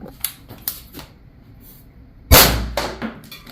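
A BB gun fires BK Kinetics pellets through a target: a few light, sharp clicks are followed by one loud, close report and quick rattling aftersounds.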